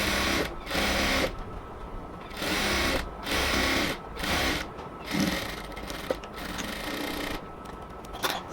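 Sewing machine stitching cotton dress fabric, loud close mechanical whirring in repeated runs of about a second each, separated by brief stops as the cloth is repositioned.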